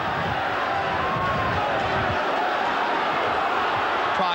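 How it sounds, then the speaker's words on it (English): Crowd at a Headingley rugby league match, Leeds against Australia on the 1986 Kangaroo Tour, a steady distant roar of spectators filling the stadium, with a commentator talking over it. "the roar of the crowd here at Headingley"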